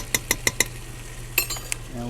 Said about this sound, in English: And we'll get that stirred in.